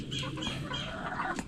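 Farm chickens cluck softly and continuously nearby while pecking at a small ripe papaya, a busy low murmur of several birds.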